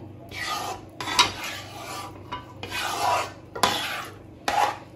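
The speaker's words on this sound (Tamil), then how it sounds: "இது மாதிரி கை விடாமல் கிளறிட்டே இருங்க." Thickening rice flour dough being stirred nonstop in a pan on low heat, giving repeated rasping, scraping strokes in bursts of about a second with short pauses between, close and fairly loud, no talking.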